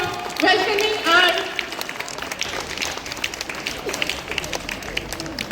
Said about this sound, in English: Everyone, please give a round of applause for welcoming our